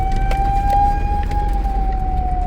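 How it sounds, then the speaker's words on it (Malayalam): An ambulance siren wailing through blocked traffic, a loud sustained steady tone over low road rumble, heard nearby from inside a moving vehicle without talk. "അതെ ഒരു ആംബുലൻസ് ഒതുക്കി കൊടുക്ക."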